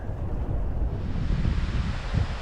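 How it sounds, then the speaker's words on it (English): Strong wind rushes across a microphone on Lake Lanier in December during a cold front, a loud, continuous low roar with gusty buffeting and no voices. "This wind is ridiculous."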